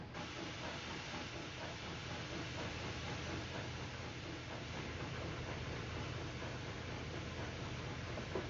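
A freight train in the Trainz2 video game rumbles past in a steady, broadband hiss and roar that holds at an even, moderate level throughout.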